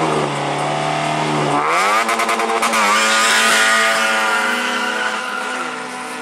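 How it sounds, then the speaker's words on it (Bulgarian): Two drag racing cars, a Honda Civic and an Opel Kadett, roar loudly off the line at Bozhurishte, their engines revving hard and climbing through the gears in a continuous, close, powerful blast with no talking. "Красимир Добрев, Honda Civic в десния състезателен коридор."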